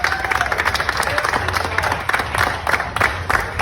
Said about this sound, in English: Big round of applause for Ricky and John.